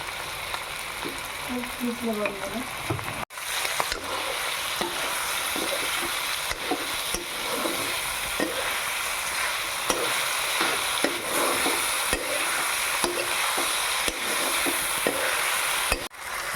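Chopped tomatoes fry with broiler chicken and potatoes in a pan, a steady loud sizzle broken by scraping stirs and clinks, with an abrupt knock partway through and faint talk in the background.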